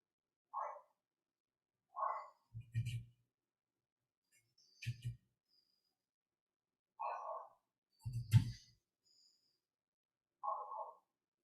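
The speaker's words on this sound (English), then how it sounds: "Dogs are going nuts." Dogs bark at trick-or-treaters at a house on a Halloween evening: several short, muffled barks and yips in separated bursts, faint and somewhat distant, with no talk over them.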